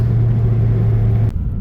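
A 1999 Mercedes CLK430 accelerating from about 20 mph on a wet road with traction control on, its engine giving a loud, steady low rumble up close before cutting off abruptly near the end.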